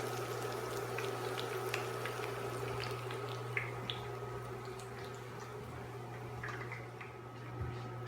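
Corn fritters frying in a pan, giving a faint, steady crackle with scattered soft pops over a constant low hum, with no voices.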